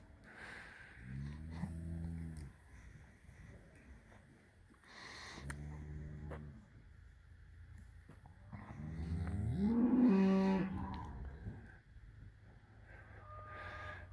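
A herd of older cows moos three times, each low, drawn-out call spaced a few seconds apart, with the third one loudest, over a quiet outdoor background.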